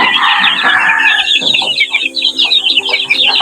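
Crossbred chickens and their growing chicks cluck loudly up close, with a steady stream of high chick peeps over lower hen clucks.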